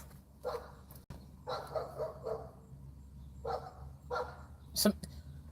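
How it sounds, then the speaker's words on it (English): A dog barks a few houses away in a residential neighbourhood, giving several spaced, muffled barks from a distance over a steady low hum. "this damn dog is barking"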